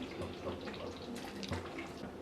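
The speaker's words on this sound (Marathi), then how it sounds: "आता यामध्ये ना आपण गरम पाणी घालूया आणि गरमच घालायचं आहे" A steady, quiet stream of hot water pours continuously into chicken curry with a soft gurgle.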